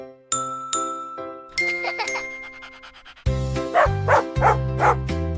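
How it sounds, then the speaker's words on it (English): Bright xylophone-like notes ring out in a children's alphabet song, a few struck tones at first, then a denser tune over bouncy music with playful barking sounds mixed in. "X is for xylophone"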